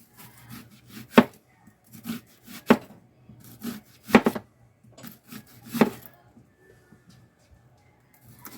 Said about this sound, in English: I'm going to go ahead and cut up the onions and just lay them on there.